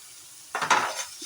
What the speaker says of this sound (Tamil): நல்லா மிக்ஸ் பண்ணிவிட்டேன் வதங்கட்டும்